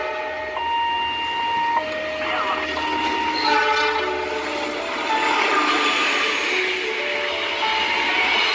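Railway train near a level crossing, with steady rumble and wheel noise plus several sustained horn-like tones throughout, loud and continuous with no talk.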